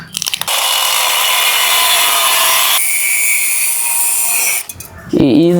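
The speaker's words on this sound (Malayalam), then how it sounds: "ഇത് സിലിണ്ടർ ഇങ്ങനെ കട്ട് ചെയ്യുമ്പോൾ" A power saw cuts steadily through an empty steel gas cylinder, a loud continuous grinding rasp that shifts pitch partway through, stops, and is followed by a brief voice.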